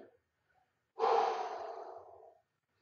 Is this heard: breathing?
yes